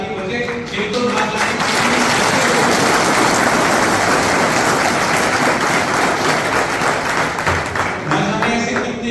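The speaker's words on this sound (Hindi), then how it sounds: "मैं आप लोगों के लिए ताली बजाता हूं" Sustained, dense applause from a large audience at a speech given inside a central jail. Many hands clap steadily and loudly for several seconds, then ease off near the end.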